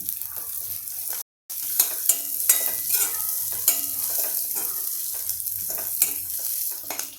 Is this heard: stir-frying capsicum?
yes